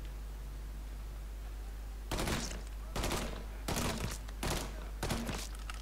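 Gunfire in the video game Mafia III: a quiet stretch, then five loud bursts of shots in quick groups, spaced roughly half a second to a second apart, over a steady low background hum.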